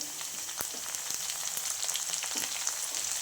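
Onions and curry leaves frying in hot oil make a bright, continuous sizzle with scattered crackles and pops, close and fairly soft, with no voices.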